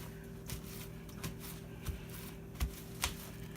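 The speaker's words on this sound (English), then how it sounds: "Take some more paper towel and just pat it dry." Paper towel pressed and patted against strips of raw jerky meat laid flat, giving soft intermittent papery dabs and rustles at close range, several light taps spread over a few seconds over a steady low hum.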